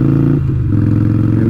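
Motorcycle engine pulling hard in first gear, a loud, close buzzing growl whose pitch steps down briefly then climbs steadily as revs rise, continuous with no pauses.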